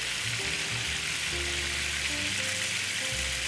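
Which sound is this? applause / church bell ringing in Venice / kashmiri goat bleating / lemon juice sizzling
lemon juice sizzling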